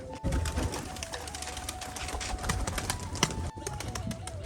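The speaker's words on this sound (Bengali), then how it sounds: "দেখুন ঝাঁকানোর সাথে সাথে কিন্তু অন্য পায়রাগুলো সব নেমে আসছে" Rajshahi pigeons coo softly amid a busy flock being fed, with fluttering and scattered chirps over steady background noise.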